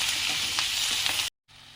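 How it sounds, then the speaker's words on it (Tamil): Tomatoes and onions sautéing in a pan for tomato chutney give a dense, close sizzle with a couple of faint stirring scrapes before a brief cut in the sound. "தக்காளி வெங்காயம் நல்லா வதக்கணும்."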